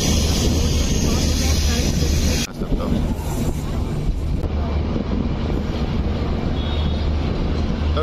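Train rolling onto the Ganga bridge at Kashi, a loud steady rumble with wind buffeting the microphone; a sudden shift in the roar midway suggests passing onto the bridge span.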